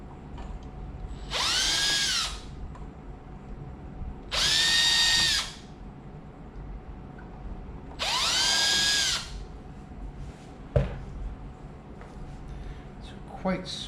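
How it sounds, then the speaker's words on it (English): A power drill, not in hammer mode, pre-drills small holes for guitar tuners on a 000 acoustic guitar build. It gives three separate whirring bursts that rise and fall in pitch, with a sharp knock and quiet talking between them. "But I'm just going to do a little pre-drill."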